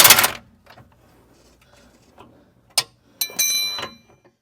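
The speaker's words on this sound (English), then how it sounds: "I'm going to put a wrench on there and just back the bolt on out." A wrench turns out a 19 mm bolt on a Dodge rear control arm, with a short burst of rapid ratcheting clicks after a few isolated metallic taps in a quiet garage.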